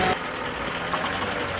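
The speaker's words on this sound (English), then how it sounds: "So it's still all engine braking, working us down the hill." A 1970 Land Rover Series 2A engine hums low and steady while engine braking downhill, a close, continuous drone with no talk.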